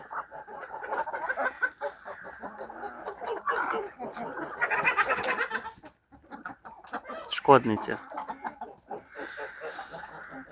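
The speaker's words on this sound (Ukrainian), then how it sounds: "індики, як завжди, луплять один одного і луплять курей" Chickens and turkeys in a poultry yard cluck and call close by in scattered bursts, with a person talking over them.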